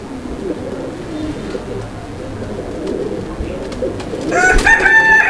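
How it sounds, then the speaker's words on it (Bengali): Two pigeons from a low-priced pigeon collection give soft, low cooing throughout, with a brighter bird call rising near the end over light background noise. "প্রিয় বন্ধুরা দেখেন আপনারা কবুতর দুটো"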